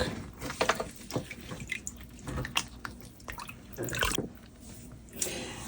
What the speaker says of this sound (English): I'm just rinsing it off a little bit with a little bit of vinegar and water